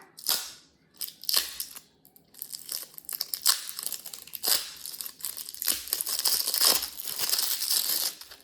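Slime kit packaging being opened, with bursts of crinkling plastic, tearing and sharp snapping clicks in irregular rhythm, close and fairly loud, no talk.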